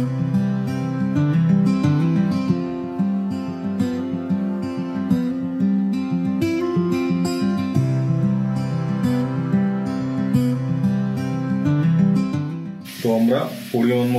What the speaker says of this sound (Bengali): আমরা ডিমটা দেওয়ার পর ভালো করে আপনাকে কষাতে হবে মশলাটা